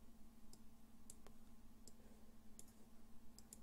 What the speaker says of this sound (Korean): 마우스 오른쪽 클릭하신 다음에